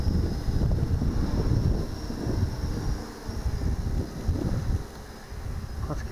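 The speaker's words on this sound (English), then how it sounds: "It's a little windy out here." Gusty wind buffets the microphone in low, rumbling waves, rising and easing over several seconds outdoors during a hexacopter flight.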